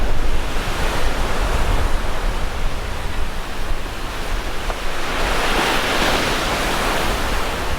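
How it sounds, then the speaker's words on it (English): Strong wind and crashing surf at a stormy seafront, a loud, continuous roaring rush of waves with wind buffeting the microphone throughout, no voices. "It's windy!"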